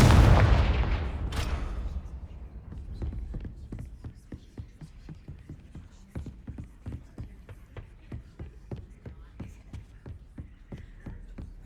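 A Confringo fire spell explodes in Hogwarts Legacy with a loud, deep blast at the start. A fast, steady run of sharp, crackling hits follows and fades to a moderate level.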